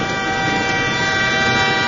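A locomotive horn blasts from the cab on a long straight stretch of track, one loud, sustained tonal blare held steadily throughout over a low rumbling undertone.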